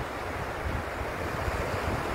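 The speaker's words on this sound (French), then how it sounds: "Remarquez les trois vagues qui arrivent." Ocean waves wash onto an African shore in a steady, continuous rush of surf with some wind noise, loud and without any voices.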